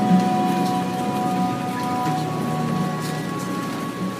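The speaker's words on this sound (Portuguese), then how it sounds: "Escute a chuva." Steady rain falls as a dense, even hiss with a low rumbling undertone, constant and fairly loud throughout, with no voices.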